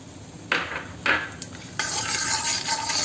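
Cashews drop into hot fat in a pan, set off two sharp bursts of sizzle, and then settle into a steady frying hiss as they are stirred, close and without talk.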